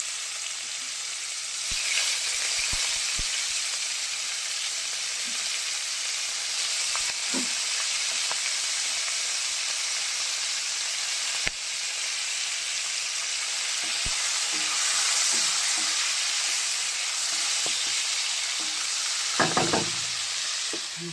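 Tomatoes and green chillies frying in a pan, a continuous loud hissing sizzle that holds throughout, broken by occasional spatula taps and stirring scrapes, with a cluster of clinks near the end.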